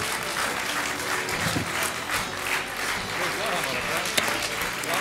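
Audience applause on an Armenian gala comedy show stage, a dense steady wash of clapping filling the whole stretch with crowd noise and some voices mixed in.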